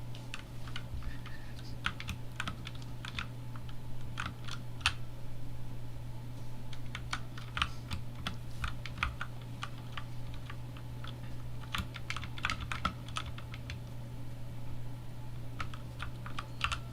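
Typing on a cheap $20 mechanical keyboard with brown switches: rapid, irregular clacks at close range over a steady low electrical hum, with short pauses between bursts.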